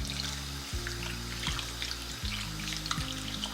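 Soaked rice for biryani is swished and rinsed in water, a soft sloshing and trickling texture under a steady low hum, with small splashy bursts recurring every second or so.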